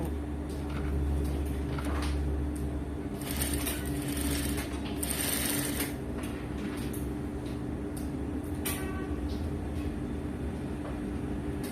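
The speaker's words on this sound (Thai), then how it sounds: "แล้วเย็บต่อมาเว้นช่องไว้" An electric sewing machine stitches a cloth face mask with elastic ear loops, a steady close mechanical whir with rapid clicking needle action running continuously and alone throughout.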